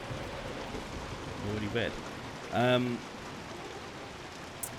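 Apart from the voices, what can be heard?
heavy rain in video game Hunt: Showdown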